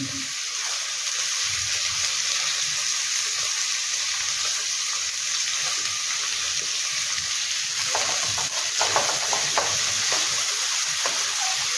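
A large onion, added after green chillies, fries in a pan with a loud, continuous sizzle and occasional stirring scrapes, with no voices.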